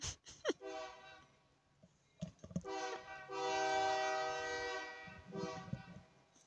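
A train passing close by blows a long, loud horn blast, preceded by short clanks and rail noise and followed by fading rumble, with no speech.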